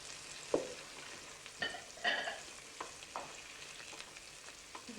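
Garlic and onions fry in a pan in a home kitchen, with a soft steady sizzle under occasional sharp clinks and scrapes of a utensil stirring, no voices.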